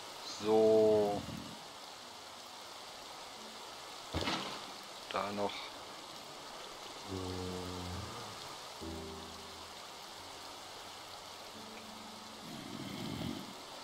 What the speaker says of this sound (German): Und das regnet wieder mal hier in Minecraft.